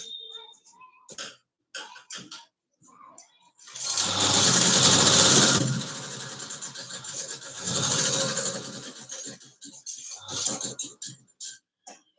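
A sewing machine topstitches the yoke band of a katori blouse in two sustained whirring runs, each a few seconds long. Scattered sounds of handling the fabric fall between the runs, and no one speaks.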